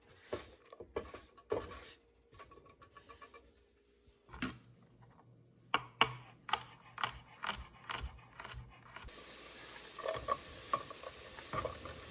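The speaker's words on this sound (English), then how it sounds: "frying that in some butter with some garlic" Onions and garlic sizzle softly in butter in a pan while a utensil stirs and scrapes in uneven bursts, close by, with a low steady hiss underneath.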